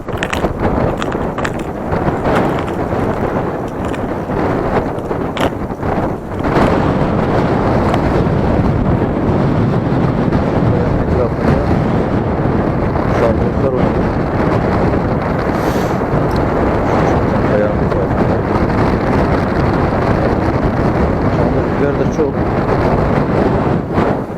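Steady wind roars and buffets the microphone outdoors, a dense rushing rumble that never lets up and grows slightly stronger partway through.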